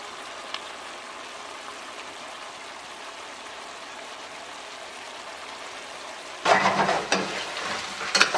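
Chicken wing sauce reduces in an uncovered pot over high heat, a steady soft bubbling sizzle that suddenly swells louder and sharper near the end, with clattery stirring noises.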